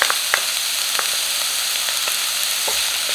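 Chopped garlic and curry leaves fry in oil with a loud, dense, steady sizzle, dotted with small crackles and pops throughout.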